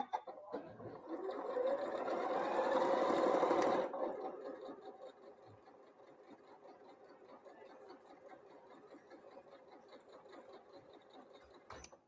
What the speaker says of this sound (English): we're going to sew that 1/4 inch right along there